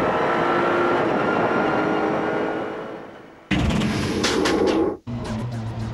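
A Renault Sport Clio V6 Trophy race car at Misano Circuit in 2001, its engine roaring loud and close through a lap, with a sharp gearshift break near the end before the note resumes.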